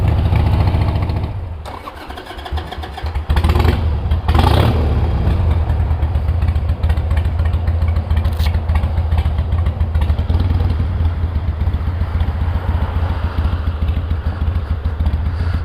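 A cold motorcycle engine cranks, catches and settles into a loud, steady idle that runs on close by without any talk.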